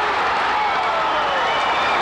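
Boxing crowd in upstate New York applauding and cheering a Mike Tyson knockdown, a dense, steady wash of clapping from a large arena audience.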